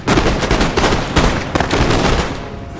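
Musket fire in Napoleon: Total War crackles as a loud, dense burst of overlapping rifle shots in a rapid, ragged volley, close and continuous, easing slightly toward the end.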